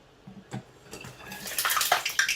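Hot water poured over stockfish in a cooking pot, splashing and gurgling steadily louder over a couple of seconds, close by and without speech.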